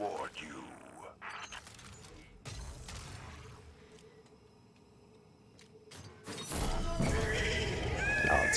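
A horse whinnies in a rising, wavering call, followed by stretches of game sounds, with a louder burst of noise near the end.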